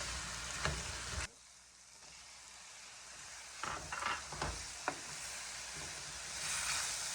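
Food fries in a pan with a soft, continuous sizzle that drops briefly quieter, then returns with several light knocks and scrapes of stirring, no voices.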